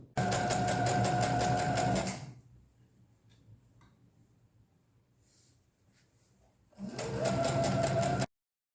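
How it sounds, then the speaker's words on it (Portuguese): A sewing machine runs a half-centimeter seam, whirring steadily and loudly for about two seconds, going quiet with faint rustling, then starting up again for another short burst of stitching, with no talking. "vamos passar uma costura de meio centímetro aqui, unindo elas."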